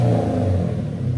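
A 2014 Dodge Charger R/T with a 5.7-litre HEMI V8 and Magnaflow exhaust revs briefly, giving a deep, loud, close rumble that wavers slightly as the throttle eases.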